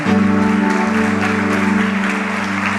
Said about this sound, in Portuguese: Vamos aplaudir mais uma vez o nosso Deus.